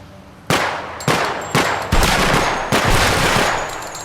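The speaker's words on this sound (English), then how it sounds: "Hey, I will shoot." Loud rifle shots from a 5.56 and 30-06 weapons test, six blasts fired at irregular intervals with ringing, overlapping echoes that fill the gaps between them.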